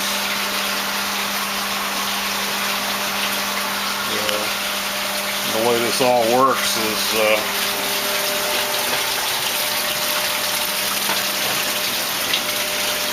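Water pumps in a closed recirculating tilapia fish farm system produce a constant low hum and rushing water that runs throughout, while someone talks over it.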